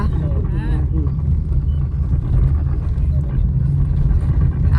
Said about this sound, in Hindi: देखो ट्रैक्टर